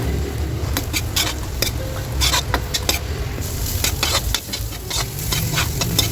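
Chopped onions sizzle in hot oil with garlic in a pan for a pork belly caldereta, a steady broadband frying hiss with scattered crackles and light clinks of stirring throughout.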